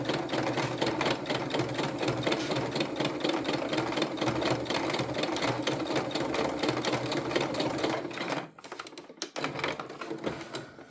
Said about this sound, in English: don't forget to do your reverse stitch as well